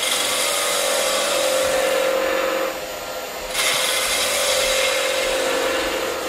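A wooden blank spinning on a woodturning lathe while a gouge's bevel rubs the surface, giving a steady loud hiss with a short dip where the tool eases off before resuming.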